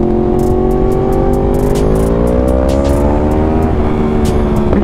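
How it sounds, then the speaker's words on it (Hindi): A hot Yamaha R1 sportbike revs steadily on the road, its engine note rising with a string of sharp exhaust pops and crackles ticking through the loud, continuous roar. "R1 जब गर्म हो जाती है ना भाई तो इसके एग्जॉस्ट का बिहेवियर पूरा चेंज हो जाता है, फिर हर बार पे फट फट करके फटता है इसका।"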